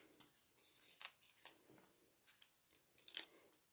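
Paper backing peeled off small adhesive foam dimensionals for card making: quiet, close, intermittent crisp tearing and crinkling bursts with a sharper peel near the end, in otherwise quiet surroundings.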